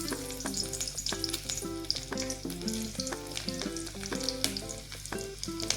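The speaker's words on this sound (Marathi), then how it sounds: "तर सर्वात आधी याच्यात आपण लसणच्या पाकळ्या टाकून घेऊया." Garlic cloves fry in hot oil for a Vidarbha-style sweet mango dish, making a close, lively sizzle with dense popping crackles and occasional stirring.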